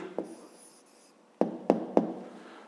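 A pen writing an answer by hand on paper in a math exercise: a brief scratch, a longer soft rub, then three sharp quick strokes close by, with no talking.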